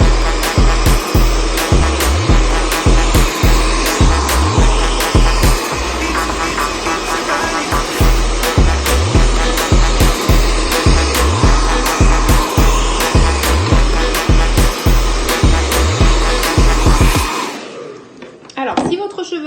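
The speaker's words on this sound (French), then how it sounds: "on va placer la brosse dessous et le sèche-cheveux" A hair dryer blows steadily and loudly while a brush is drawn through a strand of hair during home styling, with repeated rhythmic brushing strokes under the drone before the dryer switches off near the end.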